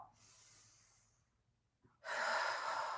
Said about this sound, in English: Big inhale into this side. And then exhale down.